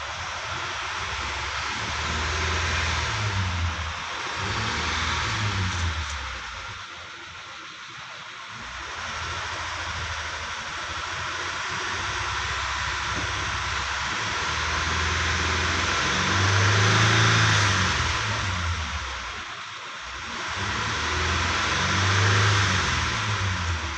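A 2010 Mitsubishi Pajero with the 6G74 V6 engine, which has an engine knock, runs steadily and close by. Its drone rises and falls with the revs, and no one speaks.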